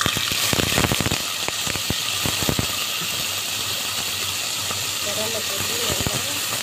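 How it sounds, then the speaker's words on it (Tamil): Onions sautéing in oil with fennel seeds for a tripe curry, a continuous loud hiss of frying with sharp clicking stirs early on and a voice speaking briefly toward the end. "கொஞ்சம் ஆயில் விட்டுருக்கோங்க. ரெண்டு சோம்பு தாளிச்சிருக்கிறோம், அதுலேயே ரெண்டு வெங்காயம் சேர்த்துக்கிறோம்."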